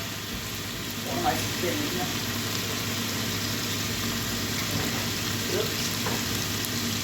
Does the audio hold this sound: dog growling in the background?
no